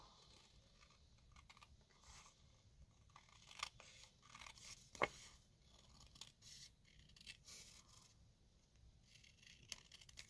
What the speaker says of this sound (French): Et je vais couper autour.